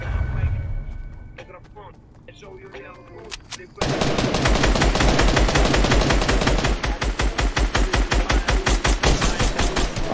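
Rapid automatic gunfire in a video game shooting down enemies, loud and sustained bursts with rhythmic repeated shots, starting abruptly after a few seconds of quieter game sound and brief speech.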